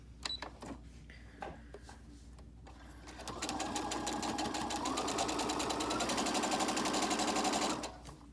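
After a few quiet handling taps, a sewing machine starts up and stitches a three-layer fabric mask in a loud, rapid, steady whir for several seconds before stopping.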